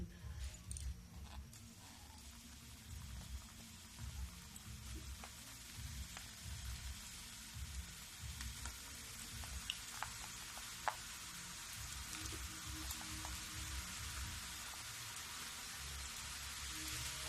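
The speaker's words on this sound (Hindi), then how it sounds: "देखो तेल गरम हो गई है। अब इसमें मैं ये जो काजू नमक पारे बना के रखी हूँ इसमें डालूंगी।" Cashew namak pare frying in hot oil: a steady, dense sizzle and crackle with scattered pops, close and fairly faint, with no voices.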